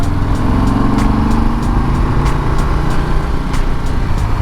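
A Harley-Davidson cruiser rumbles steadily while riding, with a loud, dense low engine drone and faint regular ticking over the top.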